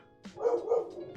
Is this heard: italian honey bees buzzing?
no